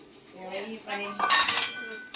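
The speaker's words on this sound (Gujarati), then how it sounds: "હાલો તો આપણે મેગી આમાં નાખી દઈએ હવે તપેલીમાં" Maggi noodles go into a small metal cooking pot, with clinks and knocks of utensils against the pot and a brief burst of rustling and clatter, while someone speaks over it.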